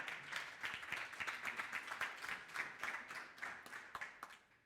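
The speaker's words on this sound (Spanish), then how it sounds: "un aplauso a Manu" Audience applause for a speaker at a dental conference, a steady patter of many hands clapping at moderate distance that thins out and fades toward the end.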